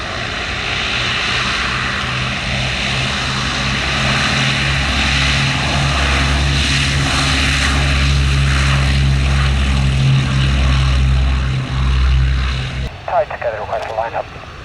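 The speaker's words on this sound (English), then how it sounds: "for which the Lysander got airborne underneath the Yak" Vintage propeller aircraft, a Lysander and a Yak, run up loud and close at a flying display with a steady droning roar, cutting off abruptly near the end, where a brief voice speaks.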